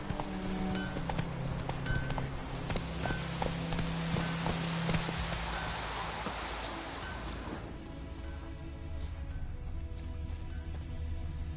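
Horse hooves clip-clopping in The Witcher 3 video game, a steady rhythmic run of hoofbeats over a low background hum. The beats soften and thin out partway through, and a faint bird chirp comes near the end.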